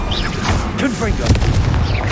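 A Confringo fire-blast spell explodes in Hogwarts Legacy as a short, loud booming burst, mixed with voices and other game sounds.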